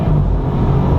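A car fitted with an upgraded low-pressure fuel pump pulls hard in second gear, a brief, loud, steady engine drone close to the microphone, with no speech.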